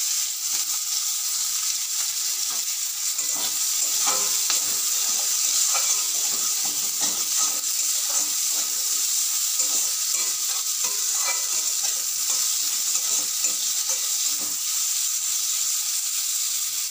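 Onion frying in hot oil for hilsa curry with brinjal, a continuous close sizzle with occasional stirring scrapes throughout, no talking.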